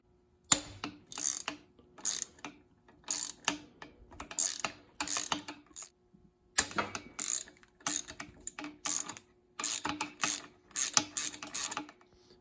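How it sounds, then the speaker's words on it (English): Bolts on a RockShox Indy XC bicycle suspension fork are turned with a ratcheting tool, giving bursts of quick, close clicking separated by short pauses. "So remember, just push down and unscrew the bolts."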